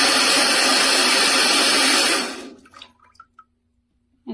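A Clirass bidet toilet seat runs its feminine wash spray, a loud steady hiss of water that cuts off after about two seconds, leaving a few faint drips and clicks.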